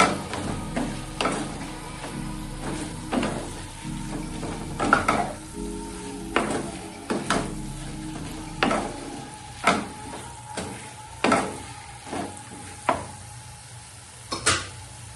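Methi chicken sautés with spices in a pan, a low steady sizzle punctuated by regular scraping strokes of a spatula every second or so, up close and without voices.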